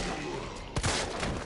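Video game gunfire, a busy stream of shots with one louder burst partway through, heard over a noisy game mix.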